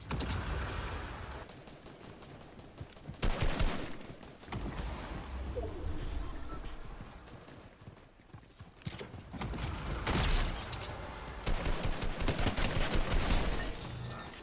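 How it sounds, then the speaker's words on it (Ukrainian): Shotguns firing in a Fortnite Reload match, a dense run of loud blasts and clattering game effects that keeps going across the stretch, with brief lulls and busier bursts. "Блін, ці дробашики такі прикольні."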